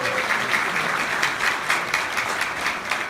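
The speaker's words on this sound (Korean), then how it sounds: "우리 시장님 항상 박수 좀 쳐주세요." An audience at a political talk applauds with sustained, dense clapping that keeps a steady level, heard fairly close and without talk over it.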